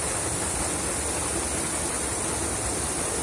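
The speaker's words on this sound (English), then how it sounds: "Makes a nice little waterfall." Small waterfall spilling through a narrow crevice in a slot canyon, a constant broadband rush of falling water, steady and fairly close with no voices.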